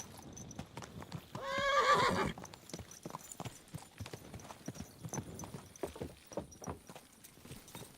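Rhythmic hoofbeats clip-clop steadily at a brisk pace in Kingdom Come: Deliverance II, with a loud horse whinny breaking out early on.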